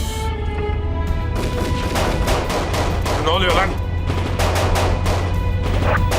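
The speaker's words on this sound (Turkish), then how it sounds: "Ya silah sesleri ne?" Rapid bursts of video game gunfire crack repeatedly in a dense, steady volley, with a voice speaking briefly over the shots.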